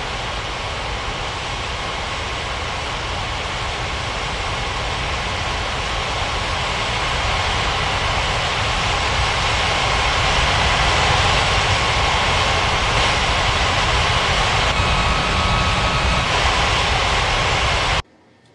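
Airliner jet engines idle and roll while taxiing at Ngurah Rai Bali International Airport in an air traffic control game, a steady, loud, broadband rumble that holds continuously for the whole stretch before cutting off abruptly.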